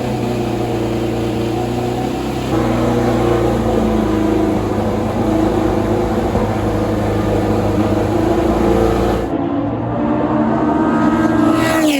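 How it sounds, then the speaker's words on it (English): A dark green 1971 Lola T70 race car rumbles past at a Donington historic race meeting, its loud, steady engine drone filling the whole stretch and shifting in tone near the end as it passes. "that's the lovely dark green Lola T70 rumbling past"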